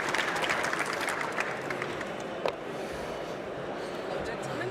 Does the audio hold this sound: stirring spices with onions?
no